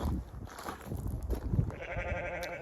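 Sheep bleat nearby in an Irish winter field in a wavering, nasal call that rises out of a busy outdoor background, one sustained bleat standing out toward the end.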